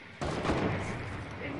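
A single gunshot in Fortnite creative mode, a sharp loud crack with a trailing echo that fades under the game's background noise.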